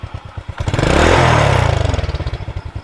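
A 2000 Honda Astrea Supra 110 cc motorcycle engine revs up hard, holding a loud, rough roar for over a second, then settles back to a chugging idle.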